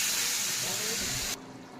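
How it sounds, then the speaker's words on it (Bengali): Water goes into a hot pan of ginger, chili, cumin, turmeric and tomato paste for banana-flower kofta curry, giving a loud, steady sizzling hiss that cuts off abruptly. "জল দিয়ে দিচ্ছি"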